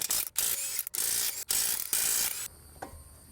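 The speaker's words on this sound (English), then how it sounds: "I'm gonna remove the passenger side front wheel. Size is 19mm for lug nuts." Rapid clicking of a hand ratchet loosening 19mm lug nuts on a car's passenger-side front wheel, in several close bursts separated by short pauses, then a quieter metallic handling noise at the end.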